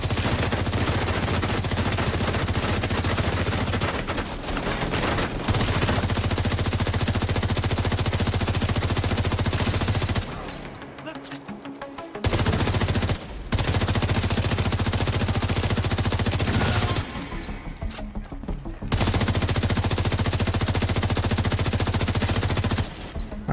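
Sustained automatic gunfire in The Division, a shooter set in Brooklyn, rattles in long loud bursts from several directions with brief pauses between volleys.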